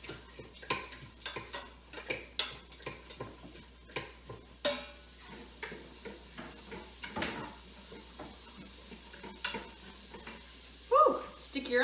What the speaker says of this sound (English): I'm here sizzling.